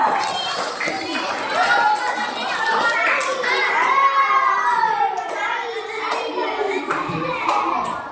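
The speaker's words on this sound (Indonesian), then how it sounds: "Beri tepuk tangan untuk mereka berdua." Scattered clapping from a school crowd at an elementary school orientation day, light and uneven hand claps mixed with children's voices and adult talk over the top.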